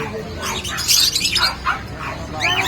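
Cockatiels at a pet market give repeated bright chirps and whistles close by, with people talking over the birds.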